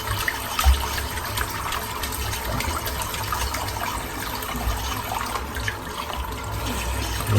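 Water running steadily to rinse soap off, a continuous close splashing wash with no talk over it.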